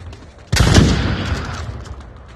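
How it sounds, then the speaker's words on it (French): A sudden burst of rapid gunfire erupts in the VR shooter Onward, loud and close, then trails off into a decaying echo and rumble. "C'est le tir, Yona"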